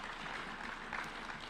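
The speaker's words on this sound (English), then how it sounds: "Yes, we can clap for them." Audience applause at a State House event for a refugee and host communities plan, a steady wash of clapping filling the short moment at a moderate, even level.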